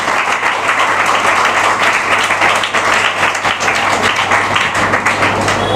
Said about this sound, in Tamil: கைத்தட்டி எல்லாரும் ஆண்டவருக்கு நன்றி சொல்லுங்க